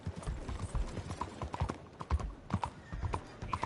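Hooves of a rare black Arabian horse clip-clopping in Red Dead Redemption 2, a quiet, even walking rhythm of distinct hoof strikes.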